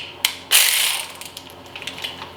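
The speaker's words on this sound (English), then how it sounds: "I like to use my ratchet sometimes to" A ratchet wrench snugging down a brake bracket on a Chevy Tahoe, a sharp metallic burst followed by a short run of light clicking, close and without talk.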